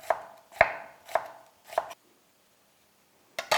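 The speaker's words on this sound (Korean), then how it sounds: "요거는 좀 가늘게 채를 써시는 게 좋습니다" A knife chops an onion into thin strips on a cutting board, four crisp, evenly spaced strokes close up, then a pause and a fifth chop at the end.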